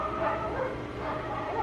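Dogs yipping and whimpering continuously in the background, fairly faint and muffled, with no clear pauses.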